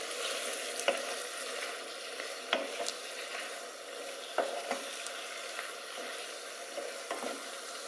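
Veal pieces fry in mushroom sauce with a soft, steady sizzle, while a utensil stirs through them in separate scraping strokes every second or two.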